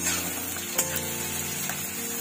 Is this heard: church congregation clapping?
no